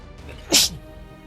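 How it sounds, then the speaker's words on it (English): A single short sharp sneeze from a character in Final Fantasy XIV Online: Heavensward, close and distinct against a quiet game background. "I'm sneezing."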